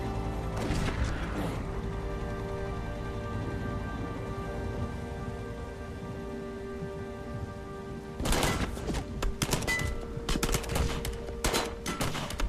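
Gunfire erupts in the video game Heavy Rain, with dense crackling bursts of shots over a steady rain-like hiss, the heaviest volleys coming near the end.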